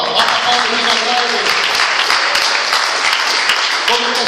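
A church congregation claps together, a loud, steady wash of applause filling the whole stretch with voices mixed in.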